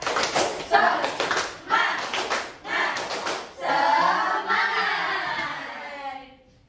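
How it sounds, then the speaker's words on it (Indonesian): Schoolchildren in a classroom perform a rhythmic spirit clap, with quick patterned bursts of hand claps alternating with short pauses, followed by a long sustained shout from the group, loud and close. "Tepuk semangat."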